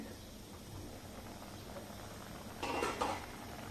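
A metal lid clinks and scrapes as it is lifted off a pot of simmering dal palak, a short, close rattle rising out of a quiet, steady kitchen background with no talking.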